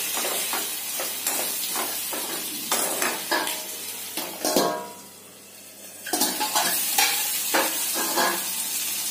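Eggplant chutney mixture with turmeric stirred and roasted in a pan, with steady sizzling and repeated spoon scrapes against the metal, briefly easing off midway before resuming.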